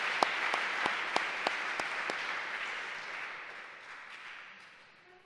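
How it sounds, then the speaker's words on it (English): An audience at an award ceremony applauds the winners, a dense wash of clapping with a few sharp near claps at first, then slowly fading out. "Let's applaud them."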